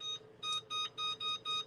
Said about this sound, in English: I never use this timer on my stove.